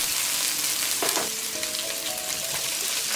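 Onion stir-fries with garlic in a pan for prawns with vegetables, a moderate steady sizzle with a brief stirring scrape partway through.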